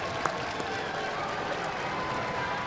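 A Robot Wars studio crowd reacts to the judges' decision with a steady wash of applause, cheers and murmuring, even and sustained throughout, with a few sharper claps standing out.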